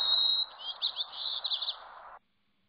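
A sparrow of the northwest coastal Pugetensis form sings alone: a long clear whistle, then a quick series of buzzy, slurred chirps and trills, moderately close, ending suddenly.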